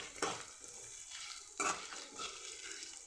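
Spices dry-roasting in a pan for a homemade black masala, with a soft steady sizzle and a few louder scrapes of stirring, close up and quiet, no talking.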